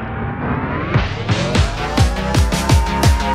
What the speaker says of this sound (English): just winding up sounds like this.